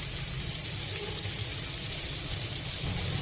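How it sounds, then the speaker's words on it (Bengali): Plenty of onions sizzle steadily in the middle of a pan while pieces of fish fry pushed to the sides, a continuous bright hiss with no talking. "পেঁয়াজগুলোকে ভাজি করে নিচ্ছি।"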